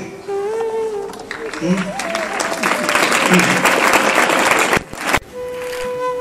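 An audience claps at a spiritual talk for students, a dense burst of applause swelling for a few seconds and then stopping abruptly, with a voice speaking over and around it.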